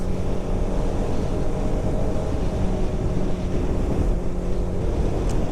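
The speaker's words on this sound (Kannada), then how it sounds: "ಇಲ್ಲಿ ಗಾಳಿ ಜಾಸ್ತಿ," Strong wind roars steadily past a motorcycle riding a highway between Dindigul and Kanyakumari, in an area dotted with windmills, as a loud, unbroken rumble that buffets the microphone.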